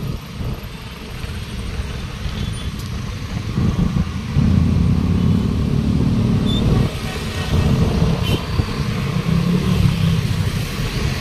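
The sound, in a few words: road traffic on Quirino Highway, Novaliches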